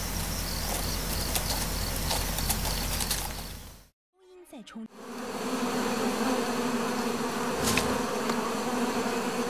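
Hornets swarm and buzz loudly around their nest as a honey buzzard raids it, a dense steady drone that drops out briefly before returning, with a few bird calls.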